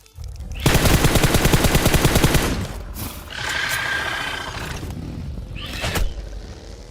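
Rapid automatic gunfire from a shooter video game, a loud dense burst lasting about two seconds, followed by quieter scattered in-game effects and a second short shot near the end.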